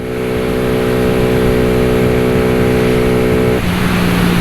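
A Yamaha Exciter 155 VVA motorcycle engine revs hard and loud up close, a steady rising drone that shifts pitch abruptly near the end as it keeps accelerating.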